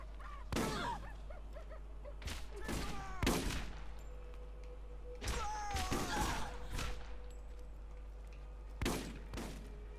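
Gunfire rings out in the video game Borderlands, with bursts of loud, sharp shots in several clusters over a steady low hum, plus brief whooshing game effects between volleys.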